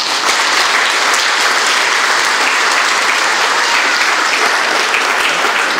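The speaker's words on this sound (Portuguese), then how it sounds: "Vamos aplaudir." Loud, dense audience applause at a group wedding ceremony, a continuous wash of many hands clapping close by that holds steady throughout.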